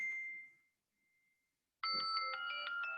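Phone ringtone for an incoming call chimes during an online class meeting, a short tone fading out, then after a pause a bright melodic multi-note ring starts loudly and keeps going, with no talk.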